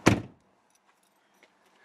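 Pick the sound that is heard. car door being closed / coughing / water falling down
car door being closed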